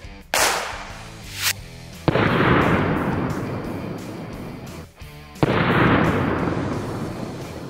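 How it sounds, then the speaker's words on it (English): A Colt Anaconda revolver with an 8-inch barrel fires 44 Magnum rounds: four loud, sharp blasts spaced a second or more apart, each followed by a long rumbling tail. "We burned through all of our 44 Magnum, but here's a bunch of clips of this gun going nuts."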